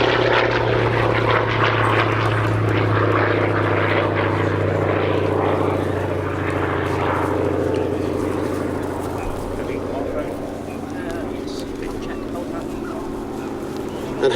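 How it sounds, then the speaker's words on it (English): A Hawker Fury FB.II piston-engine fighter drones loudly and steadily at high power as it passes at an airshow, with a voice talking over the roar throughout. "And having had the engine up at quite high power settings, Paul will now do a nice slow circuit"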